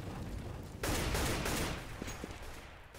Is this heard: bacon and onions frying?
no